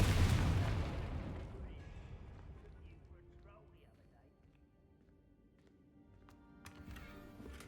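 A Confringo spell explosion in the video game Hogwarts Legacy, a loud booming burst at the start that rumbles and fades over a couple of seconds, followed by quieter game ambience and faint sharp clicks.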